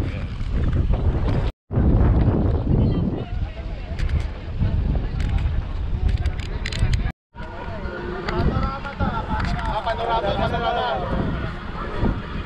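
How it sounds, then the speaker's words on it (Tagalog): Boat ride on Mapanuepe Lake in Zambales, a steady engine drone with wind buffeting the microphone, close and continuous, while people talk over it throughout. "sasakay na kami ng bangka dito para ma ikutan daw namin yung"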